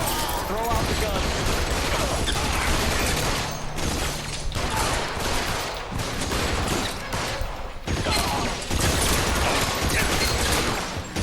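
Sustained gunfire battle in the video game L.A. Noire, dense loud volleys and explosions running throughout with someone talking over it.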